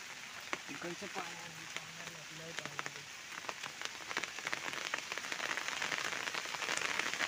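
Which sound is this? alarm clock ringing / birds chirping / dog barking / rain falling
rain falling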